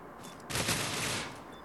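A short burst of rapid automatic gunfire in the PUBG video game, a dense crackling volley lasting under a second, fairly quiet against a faint background.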